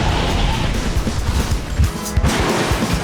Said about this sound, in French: Marquez des points avec des slams et des shunts sur les voitures près de vous.